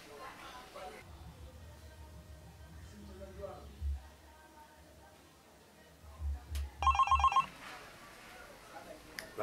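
A telephone rings once in a short electronic burst for an incoming call, near and clear, following a stretch of low rumbling background and quiet talk.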